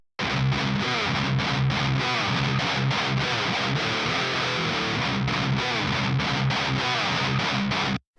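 Heavily distorted electric guitar through a Peavey 5150 preamp plugin with a TSE 808 switched in and out, played in tight chugging palm-muted bursts with short gaps, loud and alone until an abrupt stop.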